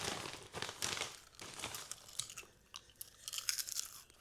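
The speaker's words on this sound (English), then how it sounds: "do you want an ASMR crunch?" Crunchy snack from a freshly opened bag being bitten and chewed up close, a series of crisp, crackly crunches with some rustling, loud and alone with no talk.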